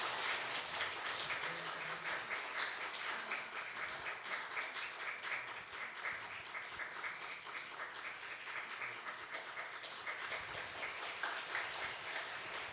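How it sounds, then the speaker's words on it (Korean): Church congregation at Geoje Ullim Church applauding a new-member Bible study certificate recipient during Sunday morning worship, a quiet, distant, continuous patter of clapping that runs steadily for over ten seconds without talk. "박수 부탁드립니다"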